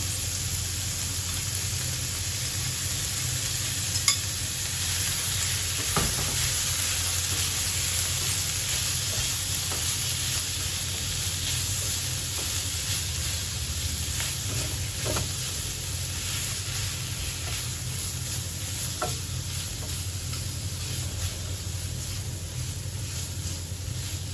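Pork with red curry paste and fresh boiled bamboo shoots stir-fries in a pan, giving a steady close sizzle with occasional scraping stirs throughout.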